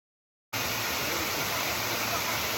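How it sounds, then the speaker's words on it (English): A steady, dense rush of falling water from the Montezuma waterfall in Costa Rica starts abruptly and roars continuously, loud and broadband, with no other sounds standing out. "I'm at the waterfall in Montezuma and it's amazing"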